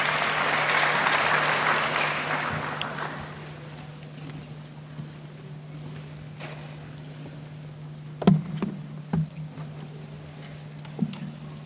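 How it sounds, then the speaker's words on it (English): A wash of applause at a graduation ceremony that fades after a couple of seconds, followed by a quiet room with a steady hum and a few faint knocks. "Dr. Bari, a round of applause for him, please."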